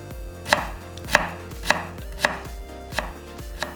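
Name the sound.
knife julienning radish into strips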